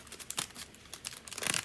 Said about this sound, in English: Now I'm looking for my glimmer paper, and we're going to cut a strip of that